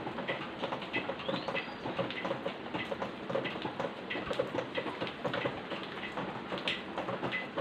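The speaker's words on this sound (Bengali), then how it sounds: "বাইরে প্রচুর বৃষ্টি হচ্ছে।" Steady, dense patter of heavy rain pours down continuously, a loud broadband wash with no voices.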